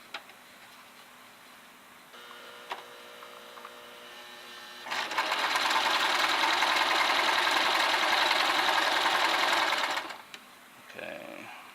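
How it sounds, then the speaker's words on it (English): A sewing machine stitches the seam of an infinity scarf, running in one loud, steady, rapid burst of about five seconds after quieter handling noises, then stopping. "I'm going to sew right about to here"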